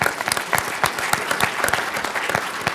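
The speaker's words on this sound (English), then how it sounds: "Round of applause." An indoor audience at an MIT energy pitch event gives a full round of applause: dense, steady clapping from many hands that stays loud and even throughout, with no speech over it.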